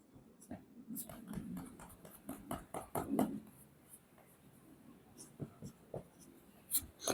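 Marker or chalk writing an aldehyde chemical formula on a board during a chemistry lesson, a series of soft scratchy strokes and taps in irregular bursts, with quiet speech around them.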